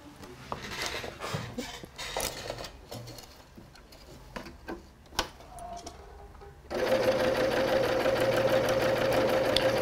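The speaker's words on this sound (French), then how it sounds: "On va faire une petite surpiqûre, piqûre droite." A sewing machine runs a straight topstitch around a bra cup. Soft fabric handling and clicks come first, then a steady, close mechanical whir holds through the last few seconds.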